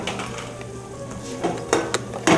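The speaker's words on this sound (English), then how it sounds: "sizzle that up real good" Chicken breast sizzling in butter in a pan, a steady frying hiss with a few metallic clinks and scrapes of a utensil against the pan.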